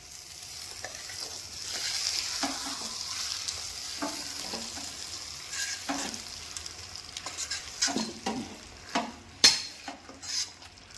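Vegetable curry is stirred in a pan as a spoon scrapes and clacks against the metal over a low, even sizzle, the strokes growing louder and sharper toward the end, with no voices.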